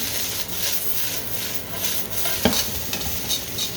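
Diced vegetables, including small-cut carrots, stir-fry in a hot pan for fried rice, with a steady close sizzle broken by repeated scraping and stirring strokes of a utensil. No one speaks.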